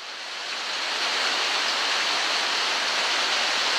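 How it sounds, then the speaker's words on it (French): Steady, dense hiss of real rain falling after weeks of dry weather, broadband and continuous, swelling slightly in the first second then holding loud and even, with no voices. "Une vraie pluie."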